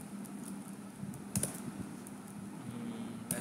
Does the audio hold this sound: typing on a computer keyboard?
yes